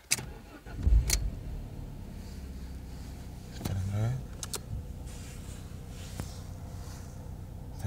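An Alfa Romeo 147 1.6 TS engine turns over and catches, then settles into a low steady idle inside the car, with clicks and a short whirring sound around it.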